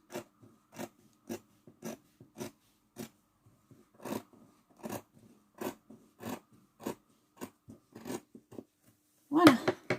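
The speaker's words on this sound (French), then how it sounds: "je vais couper alors un peu de tissu de ce côté-ci. Donc, je vais essayer de couper droit." Scissors snip through denim fabric in a steady series of about fifteen short, crisp cuts spaced evenly, close and moderately loud, with a brief louder rustle of cloth at the end and no talking.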